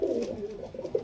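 A green pigeon coos quietly in a series of short, muffled pulses over a low, steady background murmur.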